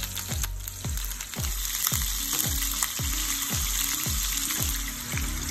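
Pork searing in hot oil in a frying pan makes a loud, continuous sizzle, broken by a regular series of low thumps about every half second, close up and with no voices.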